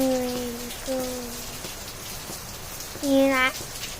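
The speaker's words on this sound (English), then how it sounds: "it's raining today here" Monsoon rain falls as a steady, even hiss of drops on surfaces, moderately close, while a voice sings over it in short tonal phrases.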